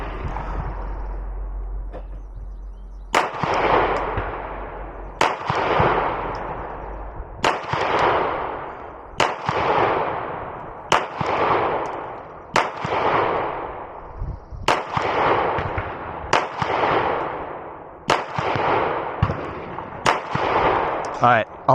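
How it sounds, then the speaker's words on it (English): A Glock 34 pistol fires about a dozen loud, sharp shots at a bullseye target 5 yards away. Each crack rings out with a decaying echo, and the shots come at an even pace roughly every two seconds. "I got a little bit more experience with this Glock 34, and we're going to go ahead, we're going to shoot the bullseye on the left at 5 yards"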